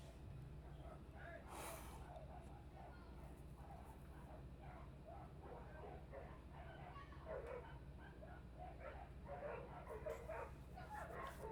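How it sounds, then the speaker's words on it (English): Several dogs barking and yipping at a distance indoors, with scattered short bursts spread through the clip and a voice talking over them. "My dogs are barking."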